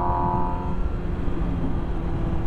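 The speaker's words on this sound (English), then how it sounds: "now the power kind of comes on beautifully smooth, like an inline four should." An MV Agusta Rush with an inline-four engine accelerates smoothly on cold tires, a loud, steady, close engine drone with a rising whine early on, alone with no voices.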